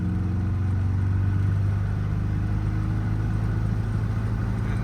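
Triumph TR4A car with a rough-running engine revving to about 4,000 RPM, a continuous steady droning hum with a strong low tone, constant loudness throughout, no talk.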